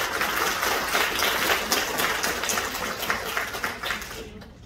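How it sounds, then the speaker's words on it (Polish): Dense, steady applause from a sizable crowd at a children's choir concert, loud and continuous, fading out at the very end with no talking. "Bardzo wielkie, gorące brawa."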